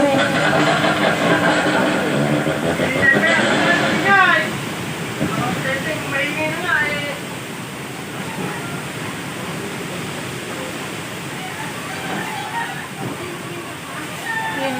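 Typhoon Rolly sends heavy wind and rain over a house with coconut trees, a dense continuous roar and wash like pouring water, loudest at first and then easing slightly, with voices talking underneath.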